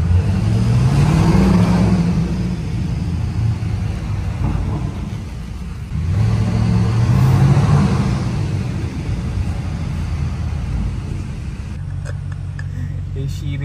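A car pulls into a resort parking area, its engine droning steadily with two rising revs, one early and one midway, before settling to a lower idle near the end.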